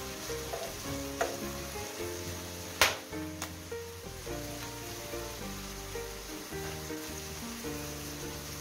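Bell pepper frying with chicken liver in a pan gives a steady, soft sizzle with light crackles and occasional sharp clinks of a utensil, under quiet background music.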